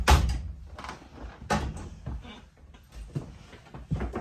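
A metal knockout being knocked out of an electrical box during a tiny house wiring job: several sharp, close knocks and clanks at uneven intervals, with lighter handling rattles between them.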